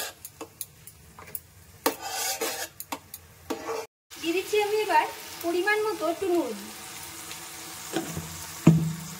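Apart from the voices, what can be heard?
frying paste in a pan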